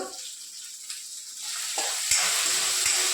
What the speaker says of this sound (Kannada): ಈಗ ಬೀನ್ಸ ಮತ್ತು ಉಳ್ಳಾಗಡ್ಡಿ ಹಾಕಿಬಿಟ್ಟು ಸ್ವಲ್ಪ ಹುರ್ಕೊಳ್ಳೋದ್ರಿ